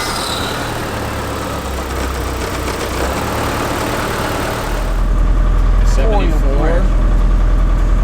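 A Honda-powered drift car idles after a cold start, its engine humming unevenly, then settling into a louder, deep steady drone; people talk nearby.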